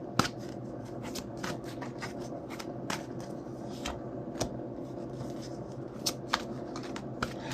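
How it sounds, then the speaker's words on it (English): Archangel Power tarot cards being shuffled by hand, a steady soft papery riffle punctuated by sharper irregular snaps and taps, close and quiet, with no talk. "I'm shuffling the cards from the"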